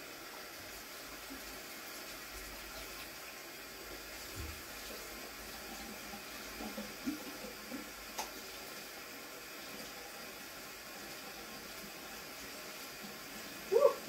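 Cold tap water runs steadily into a colander as food is rinsed in a home kitchen, a faint continuous stream with a few small clinks and splashes.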